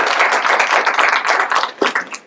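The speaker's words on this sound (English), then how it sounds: "So let's give her a round of applause." An audience at a university Constitution Day event breaks into a dense, steady round of applause that stays loud and close throughout before thinning toward the end.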